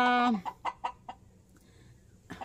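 Chickens cluck in a quick series of short, sharp clucks right after a brief squawk, then a final cluck, fairly close.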